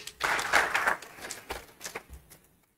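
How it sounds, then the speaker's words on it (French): Brief clapping from an audience at a closing ceremony of a national political dialogue. A burst of claps quickly thins to a few scattered ones before fading out within three seconds. "Merci de les applaudir, s'il vous plaît."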